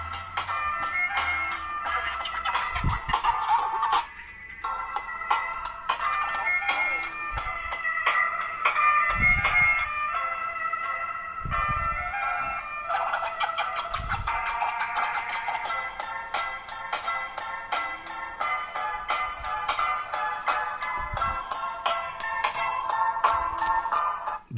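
Ringtone melody from a Blackview A55 phone's speaker, a busy, bright synthetic tune playing continuously at steady loudness for the full stretch with a brief dip early on and no talking.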